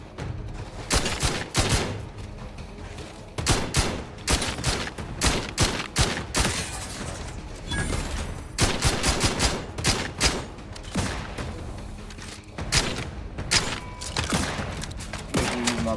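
A big gun fires in The Outer Worlds 2, dense volleys of loud, rapid shots in repeated bursts with brief gaps between them, close and dominant throughout.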